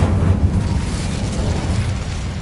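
An Incendio fire spell cast in a video game, a loud roaring whoosh of flame with a rumbling, explosive body that holds steady for a couple of seconds.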